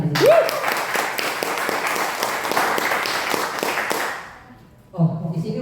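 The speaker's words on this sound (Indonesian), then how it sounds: "Tepuk tangan untuk Anda." Audience applause at an indoor business seminar, a dense wash of clapping lasting about four seconds that fades out, followed by a voice speaking.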